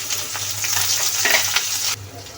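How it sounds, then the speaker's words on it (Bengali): Chopped onion and green chili frying in hot oil with cinnamon, cardamom and bay leaves, a steady close crackling sizzle with occasional stirring scrapes, dropping slightly quieter near the end. "মরিচ পেঁয়াজটা হালকা করে ভেজে নেব"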